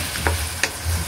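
Bihon rice noodles frying in a pan, stirred with a utensil. Two quick scraping stirs stand out over a steady close sizzle, with no talk.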